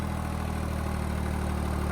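A 3630 Super tractor engine runs at a steady low idle, a continuous even rumble with no talk.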